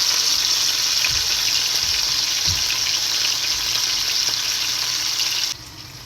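Fish frying in a pan on low heat for attieke, a steady crackling sizzle with a few soft clinks, easing quieter near the end, no talking.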